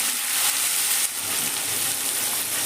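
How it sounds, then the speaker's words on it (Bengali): Sliced sweet potatoes stirred in hot oil in a pan, giving a steady bright sizzle and crackle of frying that runs continuously, fairly close and loud. "লাল আলু বা মিষ্টি আলু দিয়ে আমি তেলের মধ্যেটা নেড়ে নেব।"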